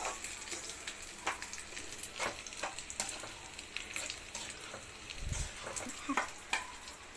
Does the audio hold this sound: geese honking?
no